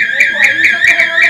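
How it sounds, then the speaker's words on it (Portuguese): House fence alarm system going off with a loud, shrill, pulsing electronic tone repeating in rapid regular bursts. "Se alguém relar na cerca, o alarme dispara"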